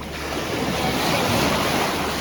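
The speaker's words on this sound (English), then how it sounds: "all this water's coming in over the sandbar, and that's pushing over to the wreck and the rocks" Sea water surging in over a sandbar at Wagait Beach, a steady, loud wash of surf and churning water filling the whole stretch, with wind buffeting the microphone and no voices.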